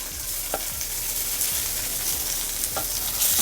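Ginger garlic paste sizzles steadily in an iron kadai over a low flame, a dense frying hiss with a couple of soft spatula scrapes while it is sautéed, no voices.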